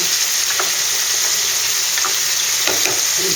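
Chicken and mushrooms sizzle and fry steadily in a pan, with a few soft scrapes as they are stirred, all loud and close with no voices.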